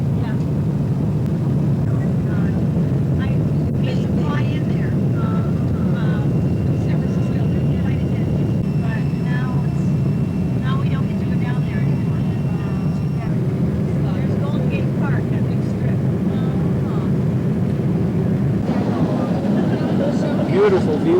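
Heavily loaded airliner, a full-load 1985 passenger flight, during its long takeoff roll and climb, heard from inside the cabin as a steady loud engine roar with broadband rumble under faint voices.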